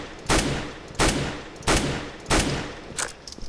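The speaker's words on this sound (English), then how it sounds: "So just sit here and start tapping your bullet like this." Four evenly spaced single gunshots tap-fired at a wall in a shooter video game, each a sharp loud crack about two-thirds of a second apart with a short decay, alone without talk.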